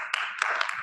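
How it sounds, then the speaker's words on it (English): A short burst of clapping from the audience at a public meeting, a few sharp claps close together, brief and moderately loud. "Let's not do any of the clapping so we can move on"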